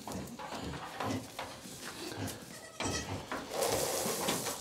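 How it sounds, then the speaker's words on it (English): Goats bleating on a farm during morning chores, several overlapping calls of varying pitch amid rustling hay and barnyard movement, fairly close and steady throughout. "No, the goats got out."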